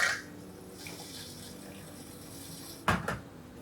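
An infused cocktail being decanted into a glass of cubed ice: a soft liquid pour with a brief louder splash and clink of ice near the end, close and with no talking.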